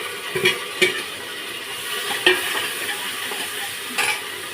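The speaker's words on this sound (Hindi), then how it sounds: "अब इसमें डाल लेते हैं टमाटर" Chopped tomatoes go into a pan of fried onions and chillies in a home kitchen, giving a steady low sizzle with a few brief clinks and stirring knocks at a moderate distance, and no talking.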